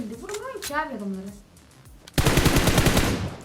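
Automatic gunfire in PUBG Mobile: speech first, then a sudden loud, rapid burst of machine-gun shots that continues steadily to the end.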